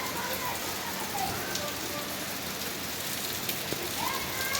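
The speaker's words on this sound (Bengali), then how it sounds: "আমাদের এখানকার অবস্থা আজকে দেখেন, প্রচুর ঝড় হচ্ছে" Heavy rain pours steadily during a storm, a dense continuous hiss of water falling on surfaces, fairly close and unbroken, with occasional faint knocks but no talking.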